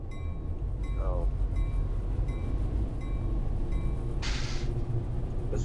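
Union Pacific GP38-2 diesel locomotives running in Train Simulator 2018, a continuous low engine rumble with faint whining tones and a brief burst of higher hiss near the end.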